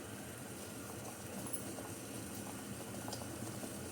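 Sugar syrup for khoa gulab jamun boiling in a pot, a faint, steady bubbling simmer with soft irregular pops throughout.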